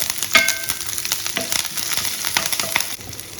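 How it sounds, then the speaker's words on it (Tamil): Garlic and curry leaves sauté in a pan for mushroom kurma, a close, crackling sizzle broken by repeated scraping stir strokes. "கருவேப்பிலை, கொஞ்சம் அப்படியே வதக்கி வச்சுக்கலாம்"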